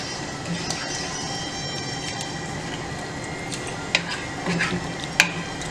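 Nadan chicken curry, seasoned with salt and a sprinkle of meat masala, is stirred in a pan: a steady soft scraping and sizzling bed with a few louder utensil clinks near the end.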